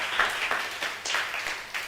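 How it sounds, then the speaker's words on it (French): A church congregation claps hands for the Lord, with a faint, fairly even applause and clapping rhythm heard at a distance. "Put your hands together for the Lord."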